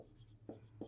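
A pen moves across paper in a quiet room while someone works a math exercise, making soft scratchy strokes with two brief firmer marks.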